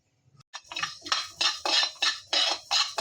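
Coriander seeds dry-roasting in a metal pan for a gizzard pepper fry, with a steady series of close, bright rattling scrapes and clinks as a utensil stirs them about, roughly every half second.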